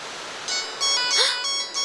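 A mobile phone rings with an incoming call, an electronic melodic ringtone in short repeated bursts, fairly loud and near, over a faint background hiss.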